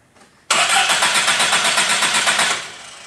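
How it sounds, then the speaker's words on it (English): A car engine cranks briefly on its starter, then catches and runs loud and close with a rapid pulsing rhythm for about two seconds before settling down. "Let's crank the engine."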